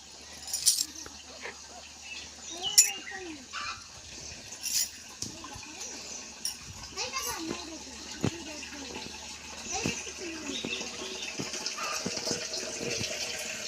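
Water runs from a tap into a container in the morning, a moderate gushing and splashing that is uneven and rather faint, with occasional knocks and clinks mixed in and indistinct voices nearby.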